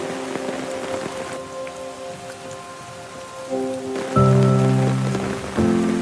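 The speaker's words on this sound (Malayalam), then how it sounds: "മഴ വരുന്നുണ്ട്." Steady rain patters down with soft tonal music running beneath it. The downpour grows louder and fuller toward the end, and no voices are heard.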